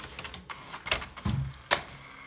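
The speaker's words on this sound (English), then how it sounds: "Nice portable typewriter." Portable thermal typewriter printing text at 15 CPI, a few sharp mechanical clacks and short whirring carriage sounds spaced irregularly, close and fairly quiet with no speech.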